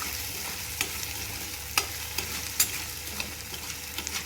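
Onion and tomato sauté in a pan for a bhurji, a steady soft sizzle with a few sharp clicks of a spatula scraping and stirring, close by and fairly quiet, with no talking.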